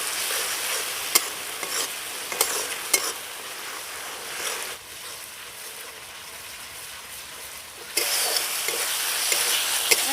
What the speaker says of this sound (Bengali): এবার একসাথে কষিয়ে নেব